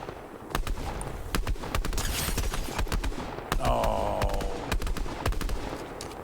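Rapid gunfire in a competitive Fortnite match, dense bursts of sharp shots crackling close and far, with a brief whooshing effect partway through and no talk over it.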